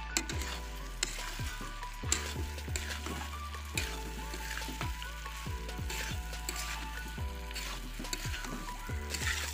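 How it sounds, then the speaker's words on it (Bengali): Snail meat and potatoes with spices sizzle and fry in a wok, with a steady crackling hiss and repeated scraping stirs, close and continuous, with no talking. "এবার ভেজে রাখা আমি শামুকের মাংসটাকে আমি দিয়ে দিচ্ছি কড়াইতে"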